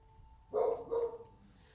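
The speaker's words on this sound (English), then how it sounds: "she'll be barking at a person" A single pet dog gives a short double bark at close range, sharp and loud against a quiet room with a faint steady hum.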